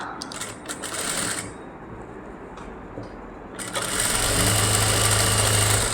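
A sewing machine stitches a fabric strip a quarter inch from the edge. Faint handling rustles come first, and then the motor starts up loud and close, running as a steady whir through the final two seconds.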